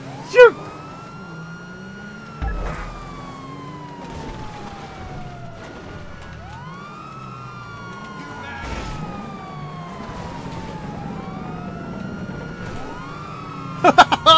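Police car sirens in the GTA 5 Online video game wail in long rising and falling sweeps across the whole stretch, steady and fairly loud, with a few sharp thuds at the start and end.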